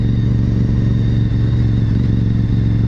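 Motorcycle ridden on an autumn road with no electronic rider aids, its engine droning steadily and loud throughout, close to the rider with no gaps or speech.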